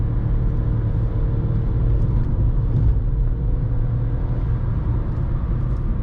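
A Skoda Fabia 3 with a 1.0 MPI 60 HP engine drones steadily while climbing uphill, a loud continuous low rumble and whir heard from inside the car.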